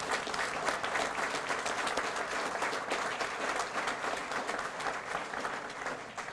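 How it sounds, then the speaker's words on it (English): Audience at a Batavia homecoming ceremony applauding veterans, a steady sustained wash of many hands clapping at moderate distance throughout. "Let's give them a round of applause as well."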